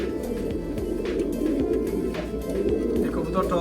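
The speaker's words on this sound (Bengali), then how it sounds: "এটা বুড়ি জাত বলে, বুড়ি জাতের কবুতর" A Buri breed pigeon from Dhalpur, Dhaka, cooing in repeated low throaty rolls, close and fairly steady, with light clicks and handling noises scattered through.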